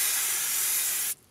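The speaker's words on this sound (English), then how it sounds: "I'll take it off and you'll see how, if you have to do some bigger areas, it gets a pretty good spray there" Brake cleaner aerosol sprayed with the nozzle removed makes one loud, continuous high hiss for about a second before it cuts off sharply, leaving near silence.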